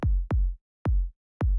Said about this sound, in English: We start with just a simple kick.